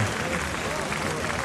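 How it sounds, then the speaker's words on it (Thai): Fans applauding at a Muay Thai fight in Thailand, a dense steady wash of clapping that runs throughout, with crowd noise and a commentator's voice mixed underneath. "แฟนๆก็ปรบมือให้"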